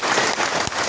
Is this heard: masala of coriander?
no